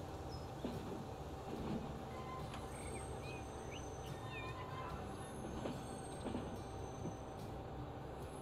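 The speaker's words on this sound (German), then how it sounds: "Genau, dann machen wir die letzten paar Meter mit dem Zug." A train arrives in the video game Transport Fever 2, a steady low rumble of rolling wagons with faint squeals and chirps layered over it, continuous and moderately distant.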